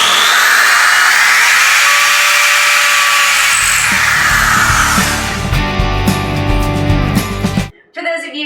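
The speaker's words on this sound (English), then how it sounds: "I'm just going to drill a couple of pilot holes." A power drill bores pilot holes for screw eyes into dry wood planks for a hanging chain shelf, first a loud high motor whine and then a lower grinding bite into the wood before it cuts off.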